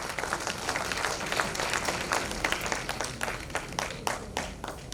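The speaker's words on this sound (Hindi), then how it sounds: "मुझे लगता है कि तालियों की गूंज थोड़े और तेज होनी चाहिए" Audience applause at a women in sports and adventure conclave, a continuous crowd of clapping hands with distinct sharp claps standing out, moderately distant and steady throughout.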